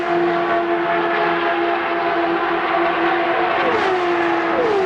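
1996 CART IndyCar race cars lapping the 2-mile D-shaped Michigan International Speedway oval at the U.S. 500, a loud sustained engine drone with steady high whine and a pitch sweep downward as cars pass.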